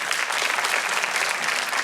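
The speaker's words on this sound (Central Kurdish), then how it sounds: "چەپڵەیەک لێرەوە بۆ زیادە سعات" Steady, dense applause from a studio audience for contestant Ziyada Sa'at on the Kurdistan Star TV talent show, continuous and evenly loud throughout.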